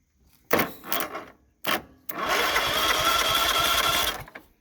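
A John Deere LT1550 lawn tractor engine cranks over with a steady mechanical whir lasting about two seconds, preceded by a couple of short clunks and rattles.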